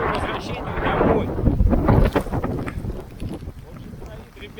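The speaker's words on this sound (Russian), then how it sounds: "Штормовой ветер, дождь как из ведра." Stormy gusts buffet the microphone outdoors during a thunderstorm with pouring rain, loud roaring wind rising and falling, with a voice faintly present amid the noise.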